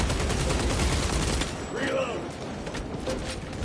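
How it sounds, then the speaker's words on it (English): Rapid bursts of gunfire from the video game Warhammer 40,000: Space Marine 2 fill the first second and a half densely and loudly, then thin into scattered shots under a speaking voice. "I've got to shoot because I've got no ammo whatsoever."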